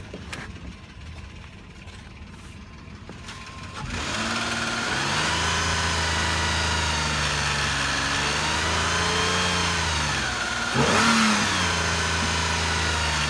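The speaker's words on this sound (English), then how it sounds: "Other than that, motor does rev and sound good." A 2005 Nissan Quest engine that needs a timing kit replacement runs close by. A quieter idle rises after a few seconds into a sustained loud revving drone, with another rev surge near the end.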